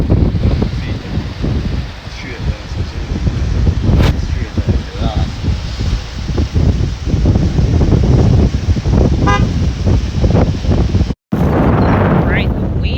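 Strong wind buffets the microphone at the seashore in heavy, rumbling gusts, loud and constant with rustling texture, broken by a brief dropout near the end.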